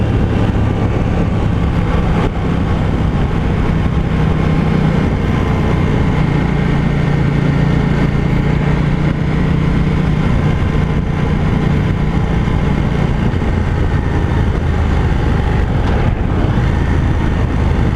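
A KTM 790 Duke motorcycle cruises steadily in fourth gear, its engine a constant loud drone with a low steady hum and wind rush throughout, no voices.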